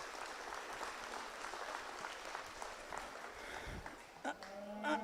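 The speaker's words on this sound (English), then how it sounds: "I think everyone needs to give these young exhibitors a round of applause for the heifers they brought out." Audience clapping at a junior agricultural heifer show, a steady broad patter of applause filling the arena, with livestock sounds faintly in the mix and a brief louder moment near the end.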